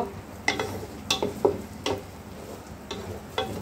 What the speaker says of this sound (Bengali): এবার হিট বাড়িয়ে দিয়ে নাড়তে থাকবো অনবরত।